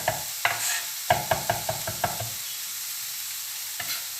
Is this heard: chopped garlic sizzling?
yes